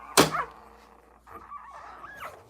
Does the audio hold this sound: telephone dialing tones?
no